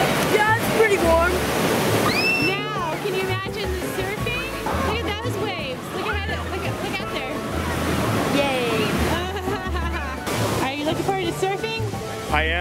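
Ocean surf at a beach rushes and washes in a steady broad wash with wind buffeting the microphone, while several people chat over it.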